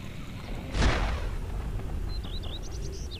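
A single booming cannon shot from an airship in the game Air Buccaneers bursts out loud near the start, with game noise and faint whistling tones continuing afterward.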